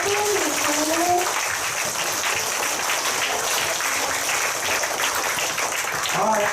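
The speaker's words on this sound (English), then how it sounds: "用你最大的掌声，谢谢我们的农夫女仆。" Students at a school workshop clap to thank their teachers, a dense continuous wash of applause with people talking over it and a brief whistle-like tone near the start and end.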